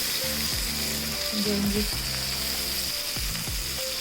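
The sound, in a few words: chopped onions frying and browning in a pan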